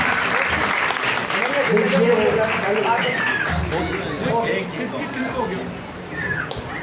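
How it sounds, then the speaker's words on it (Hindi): An audience at a student assembly bursts into loud, sustained applause, dense clapping carrying on steadily with some crowd noise mixed in, easing slightly toward the end. "जोरदार ताली।"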